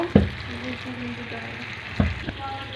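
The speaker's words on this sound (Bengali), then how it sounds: "দেখেন কীভাবে ভাজতেছি বললাম না একটু অন্যরকমভাবে ভাজবো" Bitter gourd pieces frying in a pan for a shrimp karela bhaji, with a continuous sizzle broken by a couple of sharp spatula knocks and faint background murmur.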